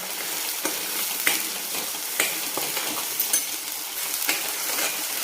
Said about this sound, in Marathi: हे जे वाटण केलेलं आहे ना हे वाटण टाकायचं आहे आपल्याला आणि छान मिक्स करून घ्यायचं आहे ह्या मसाल्यासोबत